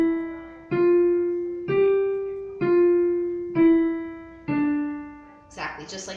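On piano, a C five-finger scale is played legato: six smoothly connected notes step evenly, each swelling then fading into the next, close and clear, before a short burst of noise at the end.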